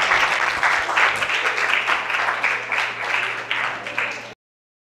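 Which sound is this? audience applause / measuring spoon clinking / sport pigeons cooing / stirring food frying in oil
audience applause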